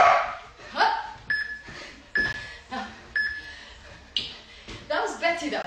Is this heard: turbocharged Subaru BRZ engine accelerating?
no